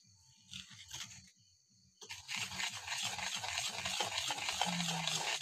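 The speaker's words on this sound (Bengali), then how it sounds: "সাদা তেলটাও খুব ভালো করে মিক্সড করে নিতে হবে" Banana cake batter is mixed with white oil: rhythmic wet stirring and scraping in a bowl, quiet at first and then fuller and steadier after a couple of seconds, with no voices.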